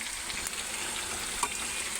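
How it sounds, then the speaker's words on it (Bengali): Food frying in a pan, a steady close sizzle and crackle with no talk over it. "অল্প একটু লাল লাল করে ভেজে নেবে"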